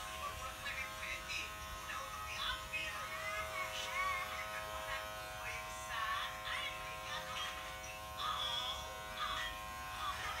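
A Kemei PG 1990 electric hair clipper with its largest comb attachment cutting hair: a steady faint buzzing hum throughout, with rustling strokes as it moves through the hair.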